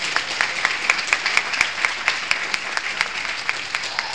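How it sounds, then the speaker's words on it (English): A room of people giving a round of applause at a youth council gathering, a moderate wash of clapping with a few sharp nearby claps standing out in a loose rhythm. "Please do give them another round of applause."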